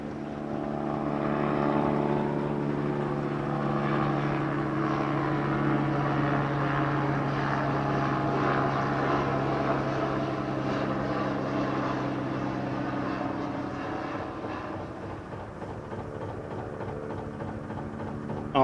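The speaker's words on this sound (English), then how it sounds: "Aslan is chugging along beautifully." A narrowboat engine drones and chugs steadily at close range on a canal, a low continuous throb with a deep hum that holds evenly throughout, no voices.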